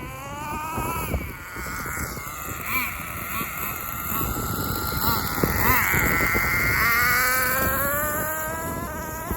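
HPI RS4 nitro RC car fitted with an RS4 3 two-speed transmission, its small engine screaming steadily at close range with rising pitch sweeps as it revs and shifts gears, under occasional voices.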